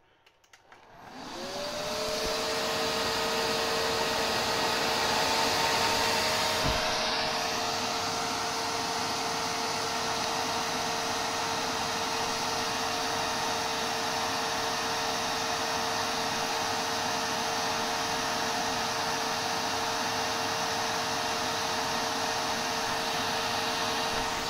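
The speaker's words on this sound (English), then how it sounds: "this is how loud the system gets when you turn it on from a cold boot with no power" IBM IntelliStation Z Pro workstation fans roar up at a cold boot. The near, loud whoosh climbs to full speed within a couple of seconds, then holds steady with rising tonal whines.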